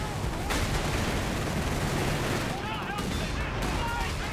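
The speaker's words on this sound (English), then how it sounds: "Second 17 pounder from the side, landing some good hits." A 17-pounder anti-tank gun firing during a large Company of Heroes 3 tank battle, its shots lost in a continuous dense wash of battle noise with overlapping gunfire and explosions, steady and loud throughout.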